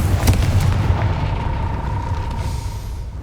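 A Confringo blast spell explodes in the Hogwarts Legacy video game, heard as a deep, loud booming rumble that rolls on for several seconds with a faint ringing tone above it, and no voices.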